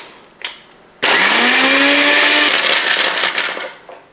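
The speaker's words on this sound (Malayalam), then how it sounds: "ആദ്യമേ തന്നെ നമുക്ക് ഈ മുളകൊന്ന് പൊടിക്കണം." Mixer grinder pulverising dried red chillies, a short tap before the motor kicks in loudly with a rising whine, roaring steadily for a few seconds, then rattling and winding down.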